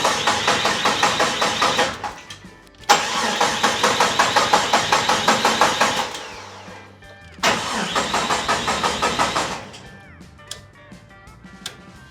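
A Norton Commando motorcycle engine cranks over in long bursts of rapid, rhythmic starter churning, pausing between tries, with a brief sputter near the end instead of a full start. Close and loud, with no talk.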